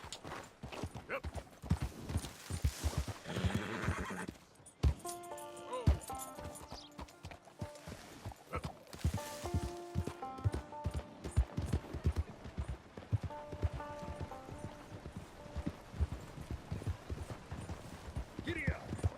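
A horse gallops in Red Dead Redemption 2, with rhythmic hoof clip-clops pounding throughout alongside occasional snorts and a whinny, mixed with game music and brief talking.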